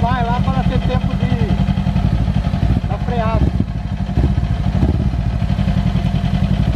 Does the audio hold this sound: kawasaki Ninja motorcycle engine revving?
yes